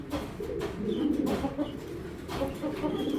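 Giribaz pigeons at a pigeon sale coo in soft, repeated low calls close by. A few chirps and faint background noise sit under the cooing.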